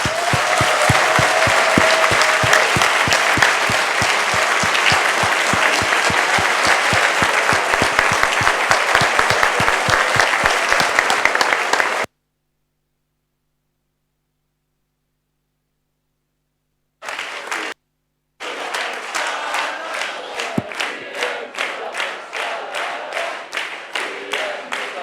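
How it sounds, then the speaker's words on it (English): An audience at a council meeting breaks into sustained applause, a dense roar of many hands clapping that stops abruptly, followed by a silent gap before the clapping resumes. "you really deserve a big round of applause"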